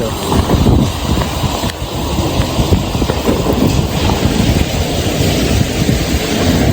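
Heavy rain pours in a steady, loud roar with gusty wind buffeting the microphone throughout, close and continuous.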